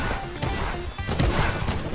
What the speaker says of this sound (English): In the middle of the gunshots.